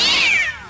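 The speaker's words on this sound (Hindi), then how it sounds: "बिल्ली लग रही है, क्या पता गाइस।" A cat gives a single loud, close meow with a drawn-out falling pitch that tails off quickly, with no other voices.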